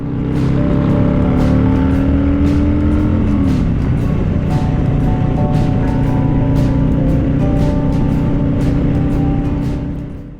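A motorbike accelerates hard up a feeder ramp onto State Highway 1, its engine note climbing steadily and shifting gear around the third second before holding a loud, sustained drone with wind rush throughout.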